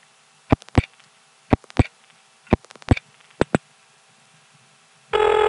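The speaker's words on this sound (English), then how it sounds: "I'm going to continue dialing now." Pairs of sharp ticking clicks come in short groups over a quiet line hiss while digits are dialed on a 914-area step-by-step exchange trunk line. A loud, steady buzzing tone cuts in at the end.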